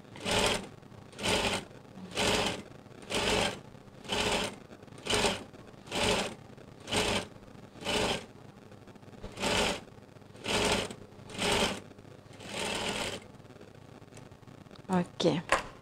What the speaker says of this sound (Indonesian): Lepas tu dah siap jahit kelim setengah inci bahagian bawah kain